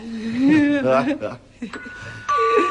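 A doorbell chimes twice with a ding-dong at home, sounding near and clear, separated by a brief pause, with a voice talking over the first part.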